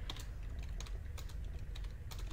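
Quick, irregular keystrokes on a computer keyboard while a console bind command is typed in CS:GO. The clicks are fairly close but soft, with brief pauses between flurries and no speech.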